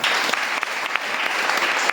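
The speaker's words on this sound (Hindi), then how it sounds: "चलिए एक बार सर के लिए हिम्मत के लिए ताली बजाएं" A classroom audience claps for a teacher in a steady, brisk burst of applause, many hands together for about two seconds.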